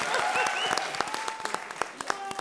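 Studio audience applauding on the set of a televised comedy show, dense clapping with sharp individual claps throughout, a faint tonal musical sting mixed in.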